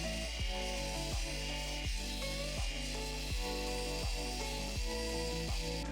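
Opal pressed against a spinning 3000 grit wheel gives a continuous whirring hum with a rhythmic rubbing swish roughly every 0.7 seconds, close and even, no talking.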